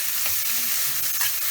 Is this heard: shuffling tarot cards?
no